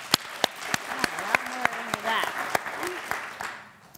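Audience members clap their hands in response to a question at a talk, a series of sharp, evenly spaced claps with scattered murmuring voices between them, fading toward the end.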